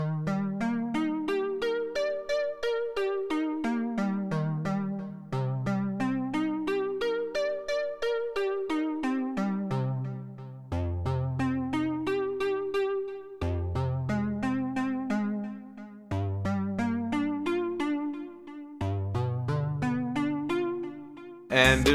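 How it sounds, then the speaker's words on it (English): Short plucked synth phrase from the intro of a song, playing alone in repeating melodic patterns with a soft echo trailing each note, steady and moderately loud with no voices. "The second element for the intro, and it repeats throughout, is this little synth,"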